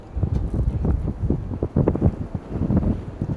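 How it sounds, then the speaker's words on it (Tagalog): Strong wind buffets the microphone in continuous low rumbling gusts beside a road in County Carlow, Ireland, loud and close, with no voices. "Lakas ng hangin. Malakas ang hangin."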